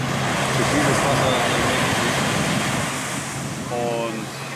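Surf washing onto the beach at Paradise Island, Nassau, a steady broadband roar with wind buffeting the microphone, and a voice speaking briefly near the end.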